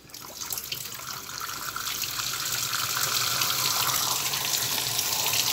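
A Suggar Lavamax 10 kg twin-tub washing machine, already loaded with clothes and powder soap, filling with water: a steady hissing gush close by that grows louder and holds strong, with no talking.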